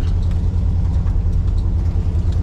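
A 1968 Plymouth Satellite on its first drive since 1976, with poorly adjusted brakes and misaligned front end, rumbles steadily from the cabin with a low, even engine drone.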